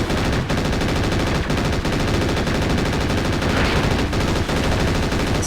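A mech's machine guns in MechWarrior 4: Mercenaries rattle in a dense, continuous burst of rapid fire, loud and unbroken throughout.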